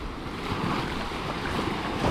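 Sea waves washing onto Martil beach near Tetouan in the morning, a soft continuous surf wash with light wind noise, fairly distant and low in level.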